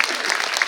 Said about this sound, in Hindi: अंकल के लिए ताली बजाओ, कम ऑन।